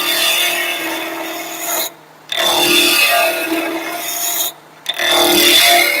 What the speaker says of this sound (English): If it's relatively small and I can turn it pretty fast, I prefer using the skew.